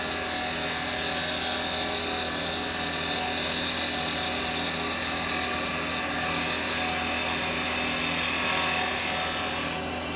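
A woodturning lathe spins while a carbide chisel makes a shear cut, lifting shavings from the workpiece: a continuous motor drone with a fine high whine and a light, even scraping hiss, close and without speech.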